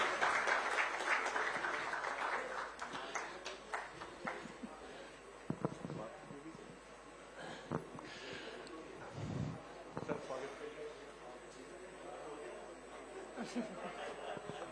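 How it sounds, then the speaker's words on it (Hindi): Audience applause at an awards ceremony for athletes in Bhopal, a broad steady wash of clapping from a large crowd filling the whole stretch, with scattered chatter and a few laughs mixed in. "बहुत तालियों की गड़गड़ाहट से स्वागत कीजिए।"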